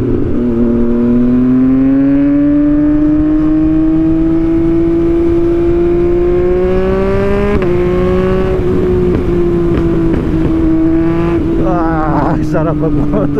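Yamaha MT-09 motorcycle engine while riding, a loud, steady tonal drone that slowly climbs in pitch, then shifts around a gear change and lets off near the end, with wind roar throughout.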